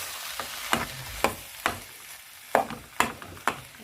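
A spoon thuds and scrapes in a pot at a steady pace, roughly every half second, as githeri and boiled potatoes are stirred and mashed together for Kenyan mukimo, with a faint sizzling hiss underneath.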